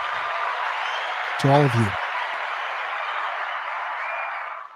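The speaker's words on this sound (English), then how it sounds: "So another round of applause for you" An audience gives a round of applause as a steady wash of clapping that runs throughout, with someone speaking briefly over it.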